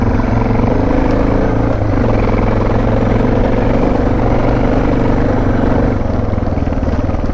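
A Suzuki DR650 dual-sport motorcycle engine runs steadily at idle for the whole stretch, a close, loud, even low rumble with a constant throb and no talk over it, out in the Ohio River Valley lowlands.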